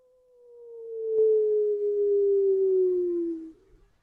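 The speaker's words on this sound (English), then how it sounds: "she hears a wolf howl again, closer" A single long, smooth howl that rises in and slowly glides downward in pitch, sustained for about three seconds before fading out.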